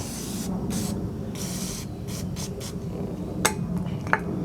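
Carburetor cleaner is sprayed onto a carburetor in short hissing bursts of varying length, close by, with a couple of small metallic clicks near the end and no speech.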